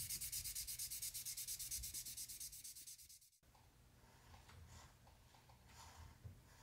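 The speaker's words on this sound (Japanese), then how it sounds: "固まったので削ってみましょう。" Rapid, rhythmic scratchy strokes of sanding hardened putty on a 1/24 Fujimi Porsche 917K scale model, close and fairly quiet, then stopping and giving way to softer, irregular rubbing and handling sounds.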